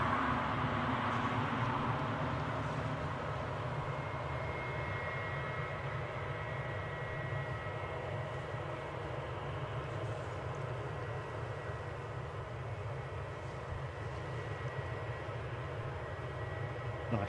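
Steady broadband roar of a British Airways passenger jet at Newcastle Airport, a continuous engine rumble with a faint whine on top that holds level throughout, with no talking.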